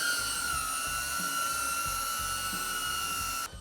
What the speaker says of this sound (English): here is the Avata noise level takeoff and hover